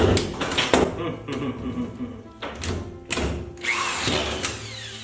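A new power drill or screw gun runs in short bursts while driving screws into drywall sheets at pre-marked spots during a house renovation, with dull knocks and thumps between the whirring runs, close and fairly loud, with a little talking mixed in.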